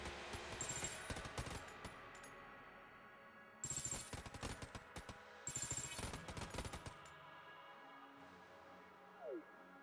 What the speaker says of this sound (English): This is a pretty good gun to do it with because it has a lot of ammo